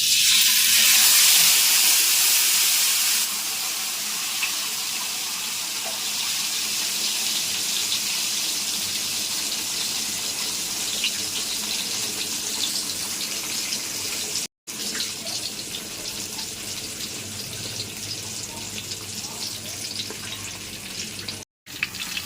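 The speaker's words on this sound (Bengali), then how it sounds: "প্যানটা গরম হয়ে গেছে, এখন আমি মাছটা আস্তে করে" Fish eased into a hot frying pan sizzles steadily, a loud, continuous hiss and crackle of frying that runs unbroken for over twenty seconds, close up and with no speech over it.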